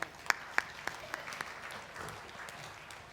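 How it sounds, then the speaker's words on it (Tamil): A church congregation at a Sunday service claps. A few loud, distinct claps open it, then a lighter scattered patter of hands continues at moderate distance. "கைத்தட்டுங்க பார்க்கலாம்."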